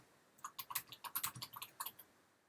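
Someone typing on a computer keyboard, a quick close burst of about fifteen crisp key clicks in uneven rhythm, with quiet between the strokes and no talking.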